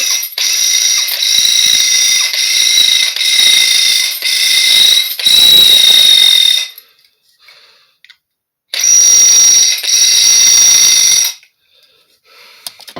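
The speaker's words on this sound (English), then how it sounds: "I'm going to drill these out a little bigger" A power drill whines steadily for several seconds while enlarging screw holes, pauses, then runs again in a second sustained burst, close and loud.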